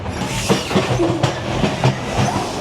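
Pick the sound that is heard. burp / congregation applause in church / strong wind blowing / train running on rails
train running on rails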